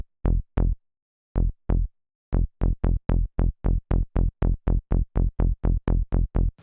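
A sawtooth synthesizer bass patch through a low pass filter plays short plucked notes, a few spaced hits, then a quick steady run of repeated notes, loud and dry with no voices.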